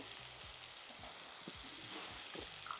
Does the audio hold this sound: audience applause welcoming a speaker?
no